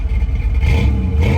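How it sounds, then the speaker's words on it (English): Freshly rebuilt 305 V8 in a 1985 Camaro IROC-Z, loud and close, with a deep rumbling idle that swells into brief revs. "Matt just rebuilt the 305 engine in his 85 Camaro IROC Z"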